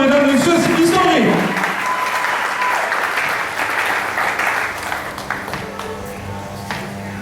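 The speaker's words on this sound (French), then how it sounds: "Sous vos applaudissements, mesdames et messieurs, c'est historique." Audience applause at a 55th anniversary celebration, loud and dense at first with voices and cheers mixed in, then thinning to scattered claps toward the end.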